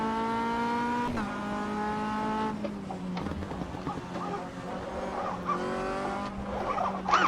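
An MCR 2000 race car slides through a corner, its engine holding a steady tone as the tires squeal in rising and falling screeches, loud and close.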